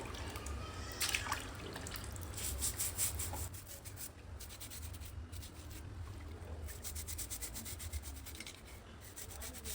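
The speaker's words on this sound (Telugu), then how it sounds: "బ్రషింగ్ ఇది ఏం చేస్తుందంటే మొత్తం రుద్దాక డెడ్ స్కిన్ అంతా పైకి లేస్తుంది" Feet being scrubbed with a pedicure brush in soapy shampoo water during an at-home pedicure, giving a steady wet rubbing and brushing texture with faint drips throughout, alone and without talk.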